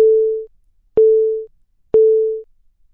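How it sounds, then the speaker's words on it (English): LifeVest wearable defibrillator startup alert: three identical steady gong-like tones, each about half a second long and spaced about a second apart, clear and isolated against silence. "You will hear a repeated gonging sound and feel a vibration."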